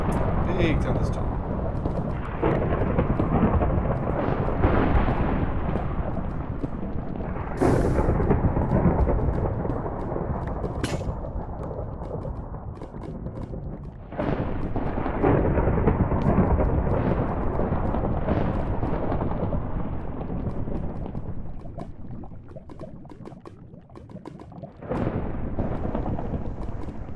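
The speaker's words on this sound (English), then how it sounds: "Big thunderstorm." A thunderstorm in Minecraft with the Polycraft mod: loud, rolling thunder crashes at intervals over a steady wash of rain that runs continuously for the whole stretch.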